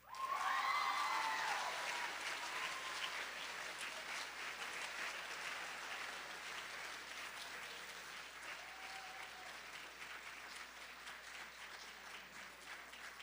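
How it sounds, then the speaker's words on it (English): Sustained audience applause for a student award at a middle school eighth grade recognition event, loudest at first and then easing into a steady patter, with faint cheers and murmurs near the start. "Give her another round of applause."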